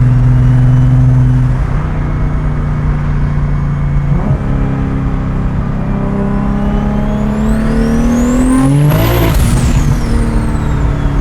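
A 1400hp car accelerates hard on a road test drive with little traction, its engine droning loud and close, then revving up in a rising whine near the end.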